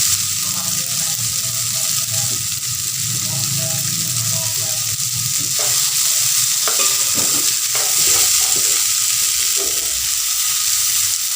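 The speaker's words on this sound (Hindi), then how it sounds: "हमारे चने अच्छे से फ्राई हो" Black chickpeas fry and sizzle in a pan with roasted cumin powder, a steady close hiss broken by scraping stirs of a spoon, with brief bits of background voice.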